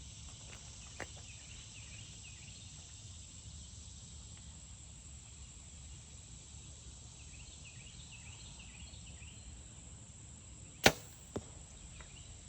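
A fixed-blade vented Magnus broadhead arrow zips past once, a sharp whooshing crack near the end over a quiet outdoor hiss, followed by a fainter second snap.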